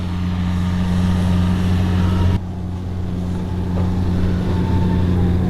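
Twin 40mm electric ducted fan motors on an X-FLY F-15 RC jet spin up with a steady, loud, tonal whine and broadband roar, briefly dipping partway through before holding on.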